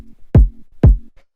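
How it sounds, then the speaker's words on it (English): Fat, deep kick drum from a funky disco house beat, two loud punchy thumps with a heavy low-end body, playing alone with a faint bass line between them. "After that, we have the kick, which sounds like this"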